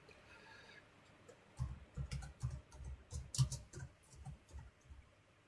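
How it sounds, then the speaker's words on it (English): Keys clatter on a computer keyboard in a quick, uneven burst of close taps, starting after a quiet opening second and running steadily to the end with no talking. "just let me type this in"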